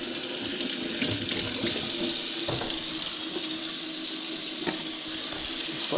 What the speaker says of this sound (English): First, I need to wash my hands.